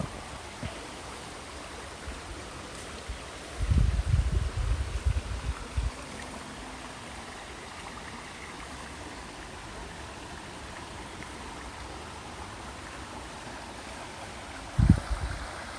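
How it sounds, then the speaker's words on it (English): Kalam Creek in a park with a pine grove flows as a constant broadband rush of water, steady and moderately loud throughout, with a couple of brief low thumps and no talk. "the Kalam Creek is down here"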